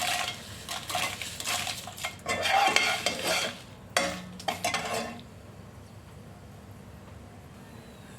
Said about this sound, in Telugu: ఇప్పుడు మళ్ళీ ఒక టీ స్పూన్ ఆయిల్ వేసుకొని ఎండుమిర్చి వేపుకోవాలి